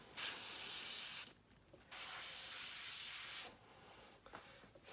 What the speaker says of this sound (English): I'm just going to spray the ends, kind of get the ends a little bit darker